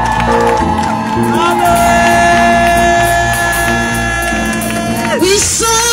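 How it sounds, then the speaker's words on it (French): A church congregation shouts for joy and cheers in praise, with loud overlapping whoops and sustained raised voices filling the room, heard continuously and close. "Est-ce qu'on peut pousser des cris de joie et acclamer Jésus?"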